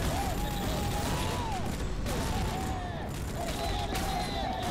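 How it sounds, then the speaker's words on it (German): Enemy gunfire in the third-person shooter Rogue Trooper Redux: a dense, continuous rattle of shots with whistling, sweeping tones over a steady background of battle noise. "Da, wo die Gegner mich ja schießen."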